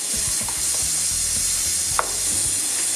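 Pepper cooks in a covered pot over low heat with a steady sizzle, overlaid by scattered metallic scrapes and clicks and one sharp tap near the middle, with no voices.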